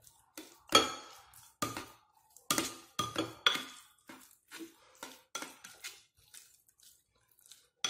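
A spoon clinks and scrapes against a bowl while stirring cooked rice porridge, a series of sharp taps and soft scrapes with pauses between them, close and alone.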